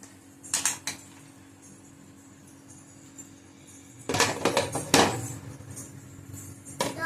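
A baking tray is set inside a heated stove pot on a stand for baking mango cake, giving metallic clanks and scrapes, one brief clatter early and a louder cluster of clinks later, close by with no talking.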